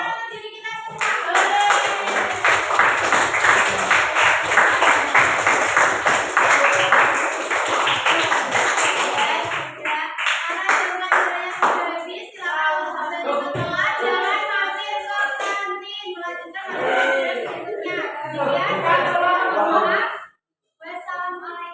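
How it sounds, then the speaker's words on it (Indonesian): An audience claps together at the end of a session, dense rhythmic clapping lasting about ten seconds before thinning out, with voices chattering through and after it. "Sebelumnya tepuk tangan untuk diri kita semua."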